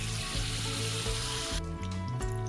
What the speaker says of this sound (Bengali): আমি বাকিগুলোকেও কিন্তু ভেজে নিচ্ছি